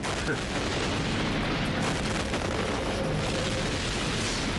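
Meteor impact explosion in a dubbed documentary: a dense, sustained roaring rumble like a blast and shock wave, loud and broadband throughout with no distinct separate bangs.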